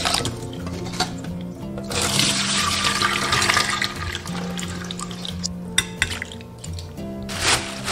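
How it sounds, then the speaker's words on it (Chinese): Small fresh oysters rinsed under clean running water, a steady close rush of tap water with splashing and sloshing in a basin, occasional clinks, continuous throughout without talk. "然后用清水把生蚝清洗干净。"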